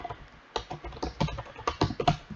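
Fingers tap away at a computer keyboard in uneven bursts of clicky keystrokes, close up and moderately quiet, with brief pauses between runs of typing.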